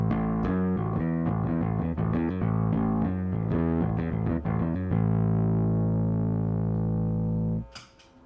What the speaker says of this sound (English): The next pedal is the MXR bass overdrive.